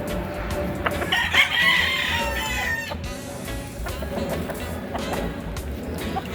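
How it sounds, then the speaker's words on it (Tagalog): Quality fighting roosters kept in pens in Cavite: one rooster crows clearly in a single drawn-out call, with other fowl clucking faintly around it in a quiet yard. "Ito yung mga manok na quality na dito."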